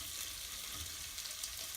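Shrimp fry briefly in a pan for a fideuà, a quiet continuous sizzle with a soft crackling hiss throughout.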